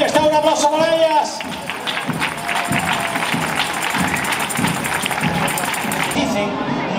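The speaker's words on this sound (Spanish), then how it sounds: "¡Un aplauso para ellas!" Crowd clapping and cheering along a street during the grand festival parade of the Cástulo fiestas in Linares, steady dense applause with some shouts for about seven seconds, amid lively outdoor crowd noise.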